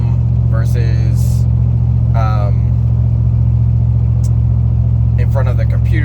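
Inside a car driving home, a steady low engine drone and road rumble hum throughout, with a voice talking intermittently over it.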